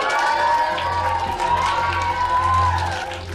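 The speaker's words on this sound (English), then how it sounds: "They're only cheering because they know they don't have to go." A crowd of school children cheers and whoops together at close range, loud and sustained, with shouting voices overlapping in a continuous roar.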